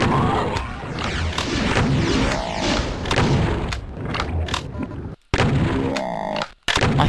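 Enemy gunfire in Doom II comes as rapid, loud, close bursts of shots and thuds amid dense game noise, with brief sharp dropouts late on.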